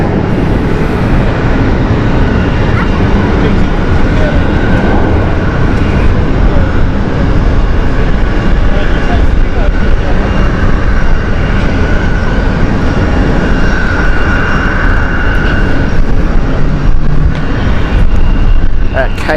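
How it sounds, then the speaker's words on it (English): An ITA Airways airliner takes off at Amsterdam Schiphol Airport, a loud, continuous engine roar that holds steady for the whole stretch, with some speech mixed in. "We've just had ITA Airways take off."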